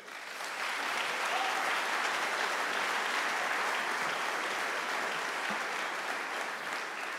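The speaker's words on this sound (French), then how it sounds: "je vous demande d'accueillir sous vos applaudissements le directeur général SIG, Christian Brunier." A room full of people at an awards ceremony applauds, a steady, even wash of clapping that holds at the same level throughout.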